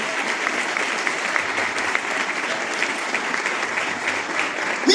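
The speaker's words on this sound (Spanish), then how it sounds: "Alguien aplauda lo fuerte esta noche" A church congregation claps at an evening service, a steady, even roar of applause from many hands that holds at an even level throughout, with faint voices buried underneath.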